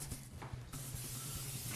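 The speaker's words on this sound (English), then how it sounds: "We're going to add that to the mixing barrel, and I'm going to spray that." Water hisses steadily from a sprayer onto flour in a mixing barrel for pretzel dough, a continuous close spray with a faint rhythmic thumping beneath it.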